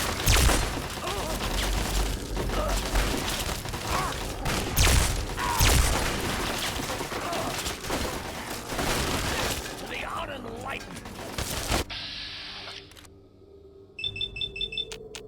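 Automated turrets shoot at enemies in the video game Fallout 3, a dense run of loud gunfire bursts and impacts that stops abruptly, followed by quieter electronic beeping tones and a voice talking underneath.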